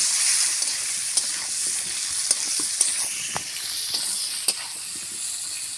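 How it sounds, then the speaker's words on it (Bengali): Pointed gourd pieces fry in hot oil with turmeric, a continuous bright sizzle with scattered sharp clicks and scrapes from stirring. "হলুদ গুঁড়ো, ভালো করে পটলগুলো আমি লাল লাল করে ভেজে নেব।"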